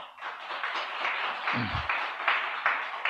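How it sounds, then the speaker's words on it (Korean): A church congregation at a Seoul church service claps for the worship band, steady moderate applause with a brief low voice partway through. "밴드 하신 분들을 위해서 박수 한번."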